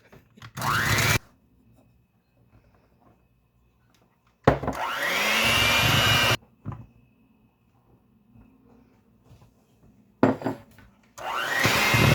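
An electric hand mixer beats flour into Christmas cutout cookie dough in a home kitchen, running loud in three separate bursts of a few seconds each with quiet pauses between them.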